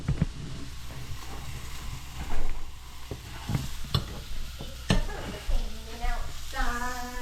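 A steak being reverse-seared in a pan, with butter going in, gives a steady sizzle and frying hiss punctuated by a few sharp clicks and taps, then a rising harmonic whine near the end.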